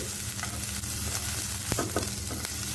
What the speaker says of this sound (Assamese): আমাৰ পিঁয়াজখিনি অকণমান ভাজি ল'লোঁ